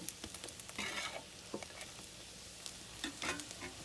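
Cooked rice and egg frying together in a pan, a soft steady sizzle with occasional stirring scrapes and taps, close but fairly quiet, no voices.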